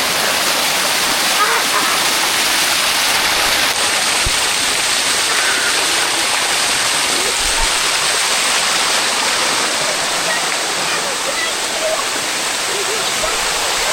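A sticky waterfall thunders as a steady, loud rush of falling water that never lets up. Any voices are buried beneath the roar.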